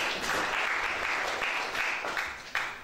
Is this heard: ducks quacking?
no